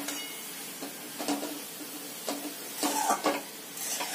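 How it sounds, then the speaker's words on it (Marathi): Grated carrots sauté in ghee for gajar halwa, giving a soft sizzle with intermittent spoon scrapes and stirring clinks against the pan, close and fairly quiet. "छान असं तुपावर आपण थोडस एक 5-10 मिनिट असं याला परतवून घेणार आहोत।"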